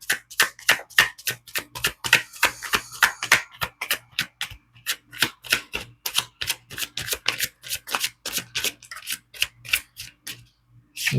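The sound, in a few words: shuffling and laying out tarot cards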